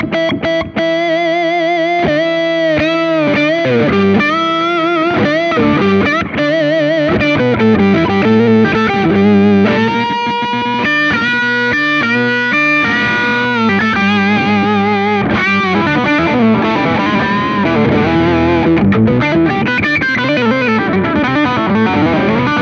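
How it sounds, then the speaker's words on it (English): A distorted electric guitar plays a continuous melodic lead line, loud and sustained throughout. "but now putting some distortion"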